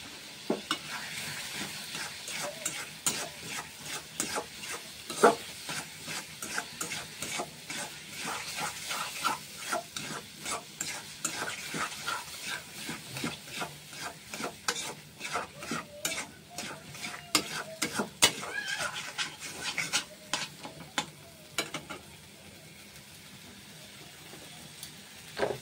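Potatoes frying with spices for a paneer and potato curry, a continuous close sizzle broken by frequent rhythmic scraping and clanking of a spatula stirring the pan.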